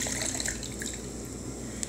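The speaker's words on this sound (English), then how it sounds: "you can actually run water from here down in the back area" Water runs steadily from a tap into a bathroom basin near a toilet, a soft continuous splash with a few brief drips, close by and fairly quiet.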